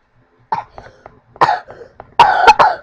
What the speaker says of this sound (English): I hate my cough.